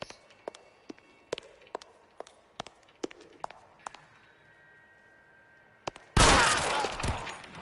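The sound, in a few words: gunshots in the video game LA Noire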